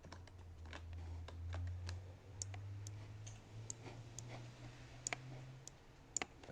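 Cards shuffled for the Arkham Horror board game: a run of quick, light clicks and ticks scattered across several seconds, faint and close, over a low steady hum, with no talking.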